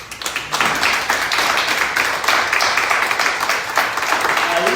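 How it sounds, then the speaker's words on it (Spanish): A church congregation breaks into applause, beginning with a few separate claps and swelling into sustained, loud clapping from many people. "Den un aplauso al Señor"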